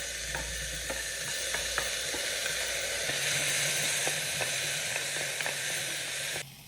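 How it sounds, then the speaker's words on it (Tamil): Onion and tomato sauté in a pan for a carrot and beetroot baby rice dish, steady loud sizzling with occasional scraping stirs and a cut-off near the end. "இப்போ கட் பண்ணி வச்சிருக்க தக்காளியும் சேர்த்து வதக்கிக்கோங்க"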